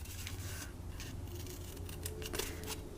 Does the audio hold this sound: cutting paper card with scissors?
yes